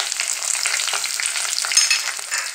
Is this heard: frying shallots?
yes